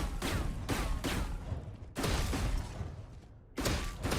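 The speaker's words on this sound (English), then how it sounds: "you can just double click mouse 1 and get 2 shots off really quick" Pistol shots fired in the video game Valorant, sharp loud reports coming in quick pairs and singles with thumping low impacts, close and without talk.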